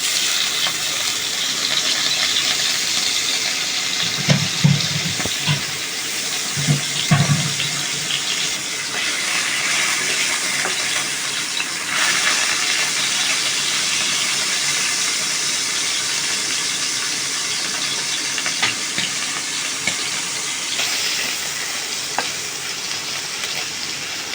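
Hot oil sizzles loudly and continuously as a hilsa fish head fries, with a few low thumps early on and the hiss holding steady throughout.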